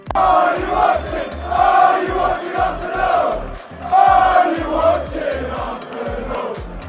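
Tottenham fans chant at their victory parade to mock Arsenal, a loud massed crowd of voices shouting in a rhythmic, repeating cadence that rises and falls in waves throughout.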